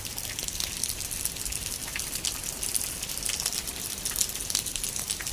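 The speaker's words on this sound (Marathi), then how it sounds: "आय थिंक पाऊस एवढा जोरात नाही आहे" Steady moderate rain falling outdoors, a dense continuous hiss of drops with scattered brighter patters, fairly close and even throughout, no voices.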